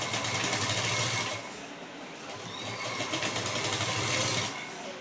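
A sewing machine runs steadily while stitching piping onto a blouse neckline, in two sustained bursts of whirring motor noise separated by a short pause, close and fairly loud.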